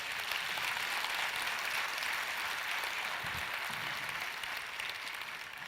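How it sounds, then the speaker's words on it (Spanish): A church congregation applauds during a sermon at a Christian service, steady dense clapping that fills the whole stretch at an even level before easing slightly at the end. "denle un aplauso"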